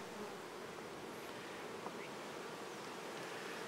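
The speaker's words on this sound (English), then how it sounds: "You can shake bees on your hand like that" Young honey bees at a Fiji hive give off a steady, dense buzzing hum that holds evenly throughout, close and moderately loud, with no voices.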